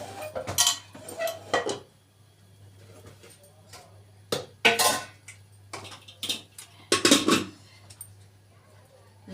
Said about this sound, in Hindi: ये इसमें कढ़ाई रख दी मैंने।